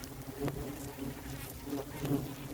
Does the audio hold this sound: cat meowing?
no